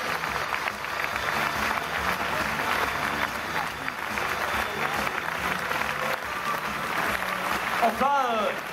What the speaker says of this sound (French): Mais j'aimerais des grands applaudissements pour toute l'équipe technique de ce spectacle